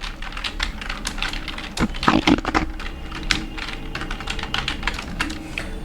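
A father's name being typed on a computer keyboard, a steady run of close, crisp key taps with a brief flurry of louder clacks partway through, with a little speech.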